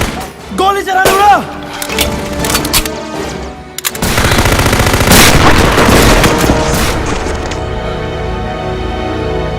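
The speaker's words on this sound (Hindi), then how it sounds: "गोली चला" A loud burst of rifle fire in a Hindi action film, sharp cracks followed by a rolling blast that decays into a long ringing rumble, after a brief spoken exchange.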